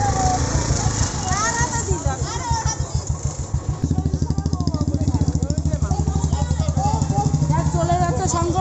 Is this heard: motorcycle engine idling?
yes